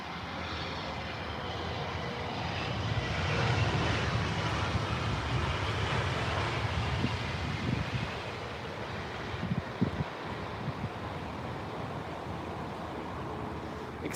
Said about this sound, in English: You've seen all the reverse thrust here.